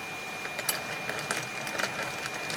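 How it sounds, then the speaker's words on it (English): An 80 mm, 5 mm thick magnetic flywheel spins and wobbles between two sets of staggered three-phase wire coils, giving a faint steady whir broken by rapid light ticks and clicks like a small sewing machine. "Now here are 2 sets of staggered three-phase coils with an 80 millimeter magnetic flywheel in the center"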